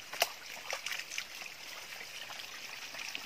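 Water pours and splashes like a shower during an outdoor bath in the countryside, a steady trickling stream with a sharp splash near the start and faint splatters throughout.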